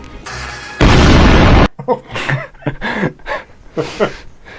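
A homemade rocket explodes in a sudden, loud, broadband burst lasting under a second. Voices follow close by.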